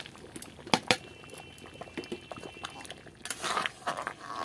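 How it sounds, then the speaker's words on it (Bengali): Thick papaya chutney bubbling in a pan, irregular soft plops and pops over a low simmer, close by and without voices. "দেখুন কতটা ফুটে এসছে, অনেকটা টেনে এসছে"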